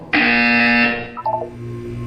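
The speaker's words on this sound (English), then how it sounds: "When you hear the buzzer, look down at the floor." A test chamber buzzer in the Portal 2 video game sounds one loud, steady electronic tone for about a second, then cuts off and leaves a short trailing blip and a low hum.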